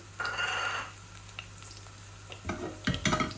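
Fish cooking in a pan with fresh garlic added, giving brief bursts of sizzling and a few stirring scrapes and clinks, close and fairly quiet, with pauses between them.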